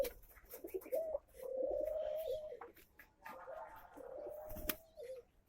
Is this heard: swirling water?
no